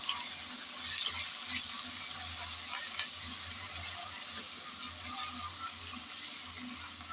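Ginger garlic paste fries in a pan for a mango dal, giving a steady, close hiss and sizzle with faint stirring scrapes underneath, gently fading toward the end.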